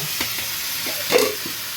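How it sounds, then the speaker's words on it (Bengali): Meat being reheated in a home kitchen pan, with a steady sizzling hiss and a few soft stirring scrapes close by; no voices. "দেখতে পাচ্ছ মাংসটা গরম করছে"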